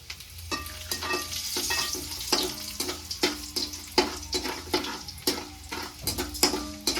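Urad dal and dried red chillies frying in hot oil, a steady close sizzle broken by repeated scraping stirs and clinks of the ladle against the pan.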